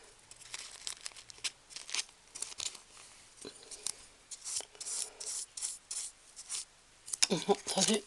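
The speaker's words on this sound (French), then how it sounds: "il faut encore un petit coup de ciseau" Paper being trimmed with scissors for a small ball craft, with scattered rustling snips and rubbing, closer crisp cuts near the end.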